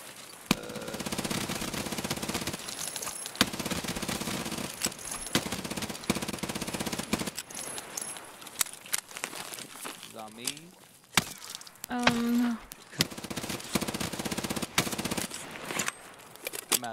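Gunfire in Escape from Tarkov: rapid automatic bursts and repeated loud shots, mixed with footsteps and game noise, while a player talks excitedly over the action.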